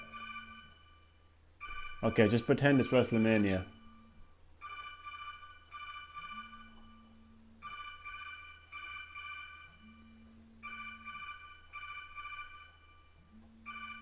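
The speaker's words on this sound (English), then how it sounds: "Metal Gear Solid ringtone in the background." A phone rings with a Metal Gear Solid ringtone, a repeating melodic pattern of short tonal bursts at moderate volume, while someone talks briefly over it and a low hum runs throughout.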